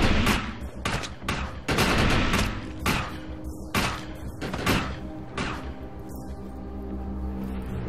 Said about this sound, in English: I like the auto gun, or the machine gun, whatever it's called.